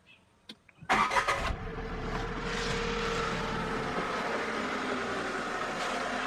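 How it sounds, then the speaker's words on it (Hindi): A Tata Punch engine cranks briefly and starts on petrol, a short starter whir followed by a steady, fairly quiet idle close by. "अभी इसको स्टार्ट करते हैं।"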